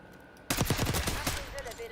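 Rapid video game gunfire bursts out in a quick string of sharp shots, loud and close, then trails off into faint game sounds.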